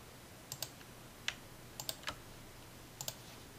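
Computer keyboard keys pressed one at a time, sparse clicks in small clusters with gaps between, close and fairly quiet over a faint steady hum.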